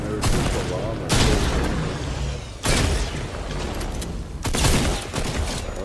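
Video game gunfire crackles in dense broadband bursts, with several louder volleys punching through a continuous stream of shots close up, while a voice talks over the action.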